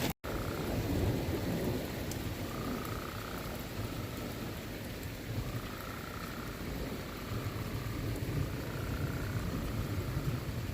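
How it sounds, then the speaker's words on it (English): A hailstorm with rain and thunder in Peyton, Colorado fills the air with a dense, continuous roar of falling rain and hail, while low rumbles of thunder roll faintly underneath throughout. "now it's hailing"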